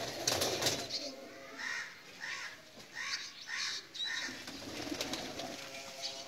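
Soft, repeated Pakistani pigeon coos close by, a few rounded calls in a row with faint background noise.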